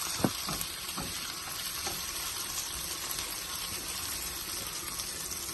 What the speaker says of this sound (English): now we're adding in our onions. And we're gonna let this saute for about 2 minutes as well